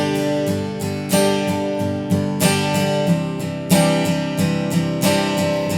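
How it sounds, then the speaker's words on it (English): Acoustic guitar down strums in a steady rhythm, with all six strings struck on the emphasized beats and fewer strings on the others, giving louder accented chords between lighter ones, played close with no talking. "I'm just going to strum all the strings on my emphasis note and not all of them on the other ones"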